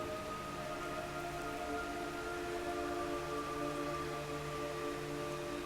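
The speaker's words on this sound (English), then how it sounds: "It's raining blood." Steady rain hiss in the video game Metal Gear Solid 3, a soft continuous downpour with faint sustained tonal drones underneath, no voices.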